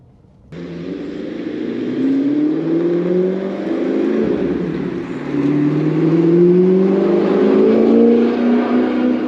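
An Audi R8 first-generation V8 with a manual gearbox drives on open roads, its engine note rising steadily through revs, dipping briefly at a shift, then climbing again, loud and close with no talking.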